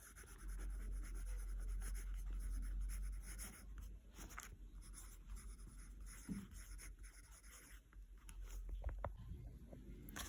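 A pen scratches across paper in short, quiet, uneven strokes, near and alone, with a faint low hum beneath it.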